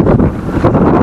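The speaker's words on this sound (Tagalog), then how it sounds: "Medyo malakas lang yung hangin." Strong wind at a fishpond buffets the microphone in a steady loud roar, with no voices over the gusts.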